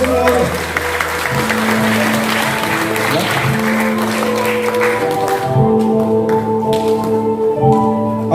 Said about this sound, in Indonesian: tepuk tangan dulu dari semuanya.